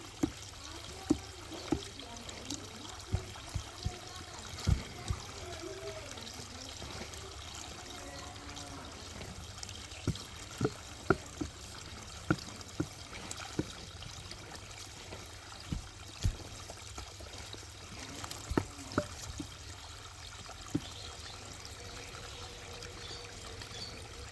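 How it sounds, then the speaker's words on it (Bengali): Cow dung slurry pours steadily into a biogas digester, a constant trickling, splashing flow with scattered sharp drips and clicks, heard close and alone. "গোবর পানি ঢুকতেছে"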